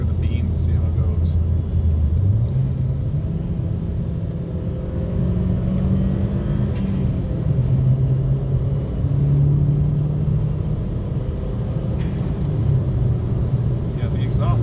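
A 2012 Chevy Sonic turbo hatchback with an aftermarket eBay exhaust accelerates through gears, a steady droning rumble with shifting engine pitch, recorded from inside the car while people talk over it.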